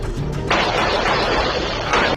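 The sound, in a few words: gunfire exchange captured on doorbell camera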